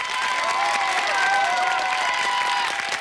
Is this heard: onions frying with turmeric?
no